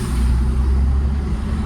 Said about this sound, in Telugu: అసలు రోడ్డు నిండా బాగాలే లారీలు ఎక్కువ శాతం లారీలే